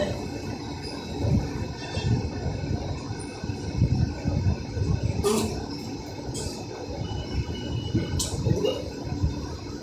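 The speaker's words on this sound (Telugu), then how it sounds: "train going, train train" A passenger train running on the line toward Vijayawada, a steady low rumble with rolling wheel noise and a few sharp metallic squeals cutting through, heard from nearby without talk.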